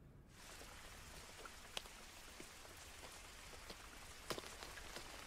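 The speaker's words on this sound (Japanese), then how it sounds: "小雨だからまだマシとはいえ、やっぱやだな雨" Light rain falls in a soft, even hiss that starts suddenly and stays steady, with a few scattered louder drops ticking nearby and no voices.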